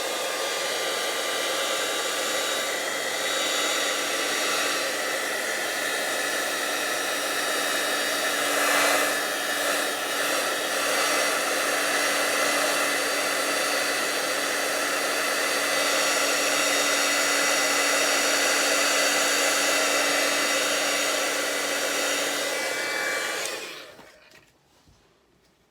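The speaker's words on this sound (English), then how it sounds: "so let's grab our embossing, our heat tool." An embossing heat tool blows hot air with a loud, steady whirring roar for over twenty seconds, close by, then switches off and winds down quickly.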